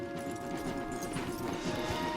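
Horse hooves clip-clop steadily under a busy ambient bed in the video game Red Dead Redemption 2, a continuous mid-loud rhythm of several steps with no speech over it.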